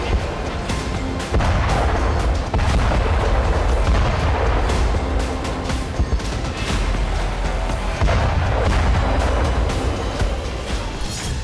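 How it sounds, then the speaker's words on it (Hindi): War sounds around Zaporizhzhia: repeated heavy booms of shelling and artillery with rumbling blasts, loud and continuous over about eleven seconds, with no voices. "ज़ैपोरिज्जिया में इस वक्त अगर कुछ है तो वो है बम, बारूद, मिसाइल और रक्त ही रक्त।"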